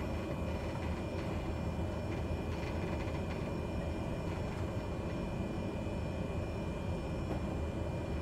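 Grand Caravan 208B turboprop engine in Microsoft Flight Simulator 2020 runs as a steady, loud, dense drone through the whole stretch, unchanging in level, with no voices.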